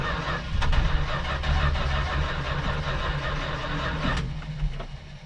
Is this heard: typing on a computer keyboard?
no